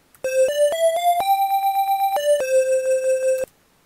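Protracker tracker music with a D03 pattern-break command plays a short chiptune sequence of bright, buzzy square-like notes stepping up and down in a quick rhythmic run, loud and alone for about three seconds.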